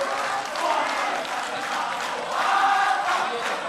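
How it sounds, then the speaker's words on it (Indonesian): An audience at a 2014 Indonesian presidential and vice-presidential debate breaks into sustained applause, a broad, loud wash of clapping that swells near the end, with cheering voices mixed in. "kita beri tepuk tangan untuk dua pasang calon kita"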